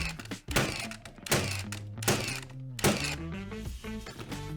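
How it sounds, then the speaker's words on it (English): Cordless nailers, a Milwaukee M18 FUEL and a Dewalt 20V MAX, fire nails in a quick series of sharp, fairly close thunks, each shot followed by a brief mechanical ring. "just shooting the 5 nails for each one"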